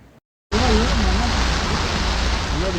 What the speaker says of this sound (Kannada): ನೋಡಿ ಎಷ್ಟು ಜೋರಾಗಿ ಮಳೆ ಬರ್ತಿದೆ ಅಂದರೆ ರೋಡೇ ಕಾಣಿಸ್ತಾ ಇಲ್ಲ